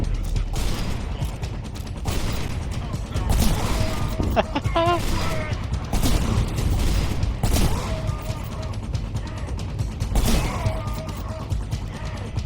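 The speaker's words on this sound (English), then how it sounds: "Oh, I get some shotgun action?" Shotgun blasts in a video game played on a PS5, several loud bursts mixed with mechanical clatter and crashing game effects, with steady game sound throughout.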